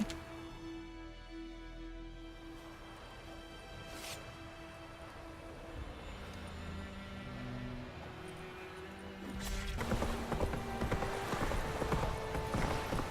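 Rhythmic clip-clop of horse hooves in The Witcher 3 over a quiet ambient music bed, growing louder and busier toward the end.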